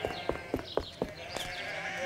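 Sheep bleat in a steady run of short calls, about one every quarter second, over a busy animated-show soundtrack with a continuous musical background.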